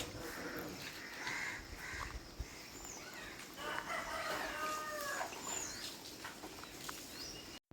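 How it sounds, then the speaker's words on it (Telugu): Roosters crowing and crows cawing outdoors in a village in the morning, several calls overlapping at moderate distance over a constant background hum. "ఈ కోళ్ళు కాకులు పిట్టలు అనేవి లేపేస్తాయి"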